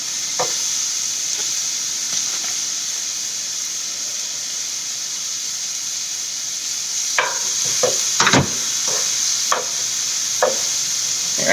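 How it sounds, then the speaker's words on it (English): Rice frying in a pan during Mexican cooking, a steady sizzling hiss broken by scattered sharp pops and crackles like popcorn, growing busier near the end, close up with no talk. "that rice is sounding like popcorn"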